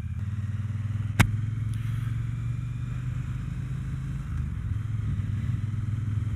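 A Triumph T120 Bonneville 1200cc motorcycle engine drones at a steady low pitch while riding, with wind rush and one sharp click early on.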